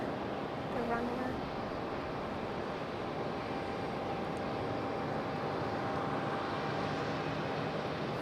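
A Delta airliner taking off at Raleigh-Durham airport, heard as a steady, fairly distant engine roar throughout, with a brief faint tonal rise near the start.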